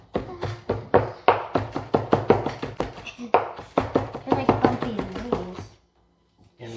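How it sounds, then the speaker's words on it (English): A knife chopping rolled herb leaves into chiffonade on a cutting board, a quick steady run of crisp taps that pauses briefly and resumes before stopping, with faint talk underneath. "we're going to chiffonade the leaves into little pieces"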